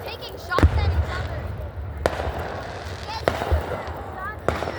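Fourth of July fireworks burst at a distance, four sharp booms spread several seconds apart with crackling in between, while people chatter nearby throughout.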